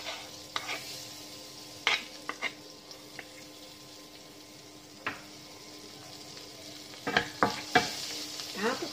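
Butter melting in a pan gives a faint, steady sizzle, broken by scattered stirring clinks and scrapes, sharpest near the start and toward the end.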